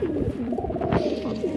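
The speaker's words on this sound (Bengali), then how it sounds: "একটা উড়ে নামলো এই পায়রাটা" Pigeons cooing close by, a soft throaty rolling coo that repeats through the moment with a few low wing or body rustles.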